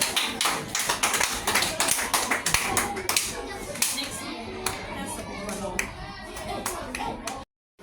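Students in a science class clap together in a burst of quick, uneven hand claps, loud and close at first, then thinning toward the end with some children's voices mixed in.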